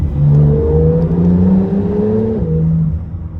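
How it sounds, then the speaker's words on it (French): A Porsche 991 Techart sports car engine revving close by, a loud rising and falling tone held for about three seconds before easing off to a lower idle. "Elle conserve ce bruit de Porsche, ouais."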